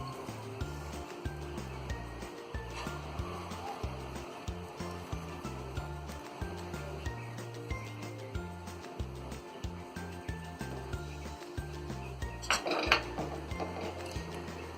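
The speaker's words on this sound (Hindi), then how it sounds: "मावे को अच्छी तरह मिक्स कर लेंगे।" Mawa is stirred into rice phirni in a pan, with a quiet, steady run of spoon scrapes and soft clinks against the metal, repeating in an even rhythm throughout.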